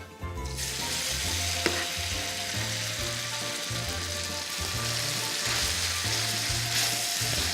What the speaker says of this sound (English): now, I'm going to take my pasta, put it right in the frying pan